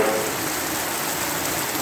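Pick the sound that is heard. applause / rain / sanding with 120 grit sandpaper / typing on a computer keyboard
rain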